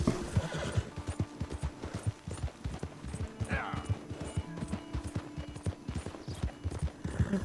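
A horse's hooves clip-clop in a steady rhythm in the video game Red Dead Redemption 2, with a brief whinny partway through, close and clear over faint game background sound.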